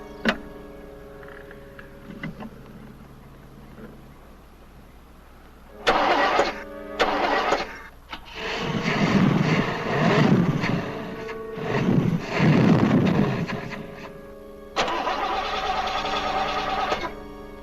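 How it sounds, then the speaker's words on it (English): A car's engine is cranked over and over in bursts amid noisy mechanical sounds, with brief sharp starter whirs between longer rough, loud spells of engine noise that cut out and start again. "I can't fix the car with you starting it."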